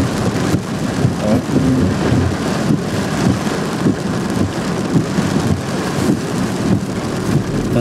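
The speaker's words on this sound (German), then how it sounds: "Jetzt ist wieder direkt über uns ein neuer Blitz." Heavy thunderstorm downpour, rain pouring steadily and loudly throughout with dense broadband hiss and low rumbling thunder underneath, no voices.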